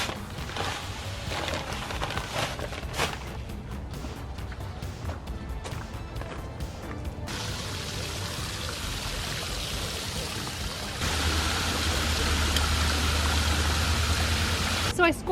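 A garden hose runs water into a planting hole dug for a maple tree hedge, giving a steady gushing hiss beneath a person talking. The flow grows fuller and louder in the latter part.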